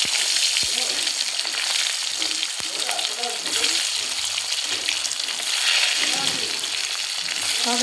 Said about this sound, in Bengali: তেল দিয়ে দিয়েছি এখন একে একে ডিমগুলো দিয়ে দিচ্ছি একটু হালকা করে ভেজে নেব